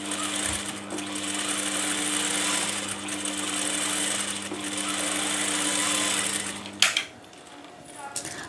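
Sewing machine running steadily while stitching a garment seam, a continuous close mechanical whir with a brief stop near the end.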